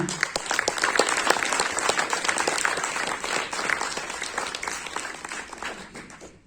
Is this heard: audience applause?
yes